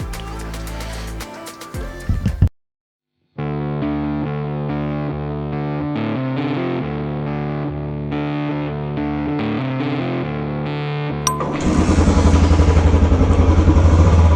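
A motorcycle engine revs loudly and near in a steady rising drone, breaking off briefly into silence, then returns with a harsher, rougher roar toward the end.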